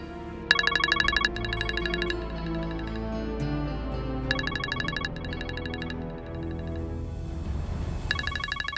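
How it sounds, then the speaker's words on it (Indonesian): A phone ringtone plays an incoming-call melody in repeated bursts with short gaps over soft background music, clear and close with no talking. "Telepon dari siapa?"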